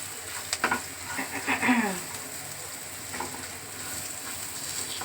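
A cheese and potato pakora mixture sizzles gently in a frying pan while being stirred, with a few clattering scrapes early on over a steady soft hiss; a voice speaks briefly.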